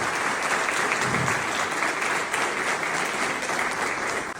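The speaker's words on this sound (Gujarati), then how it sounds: "એકવાર જોરદાર અદ્ભુત તાળીઓ થઈ જોઈએ" Dense, steady applause from a large audience at a Surat Police ceremony, filling the whole stretch at full strength without pause.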